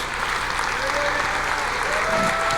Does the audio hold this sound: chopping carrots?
no